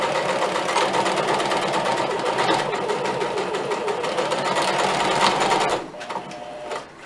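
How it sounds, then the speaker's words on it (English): A sewing machine stitches across a fabric slip-on cover for a potted house plant, running loud and steady with a fast mechanical whir for several seconds before stopping near the end. "you take it to your sewing machine, basically just stitch"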